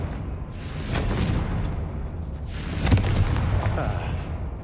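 A Confringo blasting spell explodes in the video game Hogwarts Legacy: two booming blasts a couple of seconds apart, the second louder, over a continuous rumbling game backdrop.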